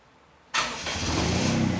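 A Daihatsu Mira with an all-wheel-drive conversion starts after a short silence; the engine catches abruptly and settles into a loud, rough, close idle.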